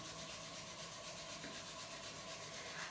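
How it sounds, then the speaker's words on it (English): Palms rubbing together during a yoga session, a steady, continuous dry friction that stays at an even level throughout, close and alone with no talking. "Keeping your eyes closed and rubbing your hands together."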